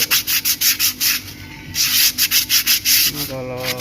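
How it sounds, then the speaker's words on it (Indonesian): Sandpaper rubs rhythmically against the brake drum of a Suzuki Grand Vitara 2.4 during a rear brake shoe replacement, quick repeated close scratching strokes with brief pauses. "kalau lumayan bersih, kita cukup amplas-amplas seperti ini"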